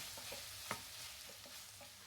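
Onions sizzle and crackle steadily in a hot pan, with a few soft scraping stirs and one brief clink.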